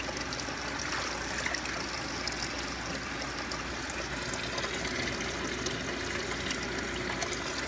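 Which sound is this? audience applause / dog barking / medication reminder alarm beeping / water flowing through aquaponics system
water flowing through aquaponics system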